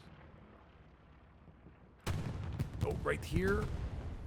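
Sudden loud tank cannon shot and explosion in the Hell Let Loose video game, a heavy boom after a quiet stretch, followed by rumbling battle noise while someone speaks over it.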